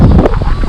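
Gusty wind on the seafront at Happisburgh buffets the microphone in a loud, brief rumbling burst.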